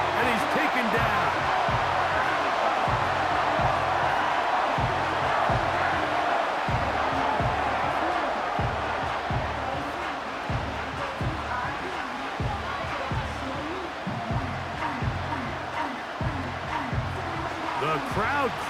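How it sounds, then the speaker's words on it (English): A stadium crowd in the Madden NFL 25 football game roars steadily and loudly ahead of a third down in a 49ers vs Packers matchup, a dense sustained wash of cheering with rhythmic thumps underneath. "The crowd cranking it up another notch before 3rd and long."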